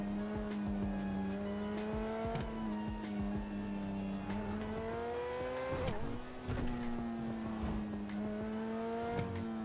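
In GTA Online, a car engine revs and holds a steady, buzzy drone with shifting pitch and occasional tire squeal, loud and close throughout with no talk over it.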